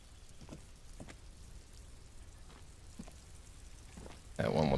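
Steady rain hisses across a street scene in the video game Disco Elysium, a soft continuous wash with faint scattered drips, then a louder burst of music or effects cuts in at the end.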